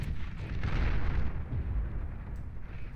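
Tank volley explosions roll across the battlefield in the real-time strategy game Beyond All Reason, a steady rumbling barrage of overlapping blasts swelling and easing over a few seconds, with no voices.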